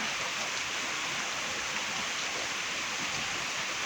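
Steady rain falls on a wet day, a dense, even hiss of drops with no pauses, constant and fairly close throughout.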